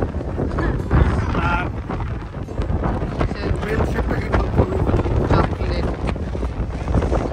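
Cold outdoor wind buffeting the microphone in a continuous loud rumble with gusty swells, while people talk faintly underneath.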